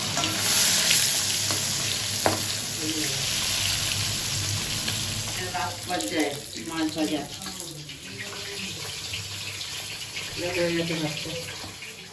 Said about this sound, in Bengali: এবার এক এক করে সব মাছ দেবো বন্ধুরা মাছ ভাজা হয়ে গেছে উল্টে দিলাম